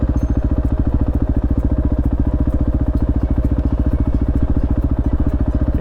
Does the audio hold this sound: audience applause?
no